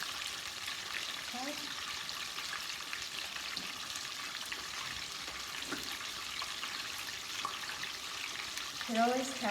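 About four tablespoons of butter sizzle in a pan as the base for country gravy, a soft, steady hiss with faint crackles throughout and a few brief clinks near the end.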